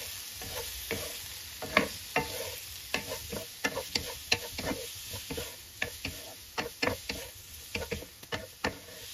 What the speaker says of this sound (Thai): เราก็จะใส่ตัวลูกชิ้นปลาที่เราลวกเอาไว้นะคะลงไปแล้วก็ผัดให้เขาโดนพริกกระเทียมทั่วๆนะคะ